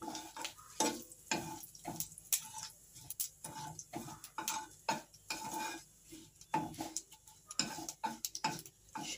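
Cumin seeds and bay leaf tempering in hot oil in a kadai while cooking a Bengali fish curry: quiet, uneven sizzling with frequent clicks, taps and scrapes of a spoon stirring against the pan.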